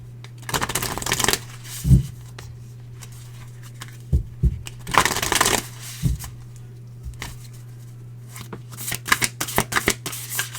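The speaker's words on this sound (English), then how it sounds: "I'm going to get one more card to close this out. And it's going to be from the Earth Warriors Oracle deck." An Earth Warriors Oracle card deck is shuffled in several bursts of crisp riffling and flicking, separated by short pauses with a few soft taps.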